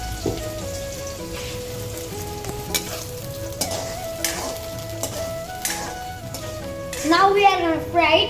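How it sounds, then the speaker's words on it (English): Food frying in hot mustard oil in a pan, a continuous loud crackling sizzle with bursts of spatter, a steady tone humming underneath and a brief voice-like sound toward the end. "Now we are going to fry it until it looks golden brown."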